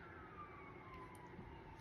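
Emergency sirens wail faintly in the distance, a thin rising-and-falling tone drifting beneath a low background murmur, with no speech in this short stretch.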